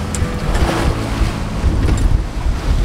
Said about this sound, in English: with the wind on the nose and slowly picking up, we're going to be giving our new dinghy air riding system a run for its money